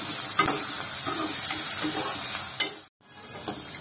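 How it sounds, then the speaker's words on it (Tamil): Onions sauté and get stirred in a pan while cooking honey chicken sukka fry, a steady loud sizzle with scraping stir strokes and a brief dropout near the end. "நல்லா வதங்கட்டும். வதங்கினோடனே சிக்கனை போட்டுருவோம்."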